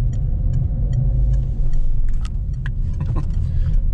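A Peugeot car with a 1.6 engine and manual gearbox rumbles along in a loud, steady low drone heard from inside the cabin, with small rattles and clicks over the top and no talk.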